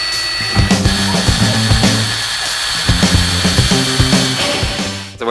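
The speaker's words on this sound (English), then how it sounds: "now I'm going to practice drilling a hole" A power drill whirs loudly and steadily, its motor pitch shifting with repeated stops and restarts throughout, no voices present.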